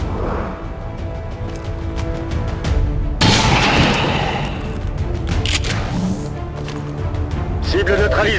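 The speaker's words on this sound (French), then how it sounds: "Je tire mes dernières munitions" Gunfire in the video game XCOM 2 bursts out in loud booming shots with a heavy blast partway through. Game voices speak over the noise.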